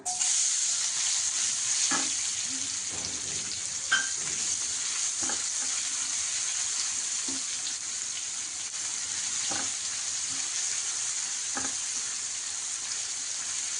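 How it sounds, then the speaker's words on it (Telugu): Chopped onion sizzles in hot oil with cumin seeds, mustard seeds and a bay leaf for an egg masala curry. The frying hiss is steady and close, broken by occasional spoon scrapes and stirring clicks. "ఇప్పుడు ఒక పెద్ద ఉల్లిపాయ సన్న తరిగి పెట్టుకొని ఇప్పుడు వేసుకోవాలా"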